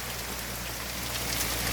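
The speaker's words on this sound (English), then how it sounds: "It's raining hard." Heavy August rain pours down outside in the countryside, a dense, continuous hiss of drops striking surfaces with no pauses.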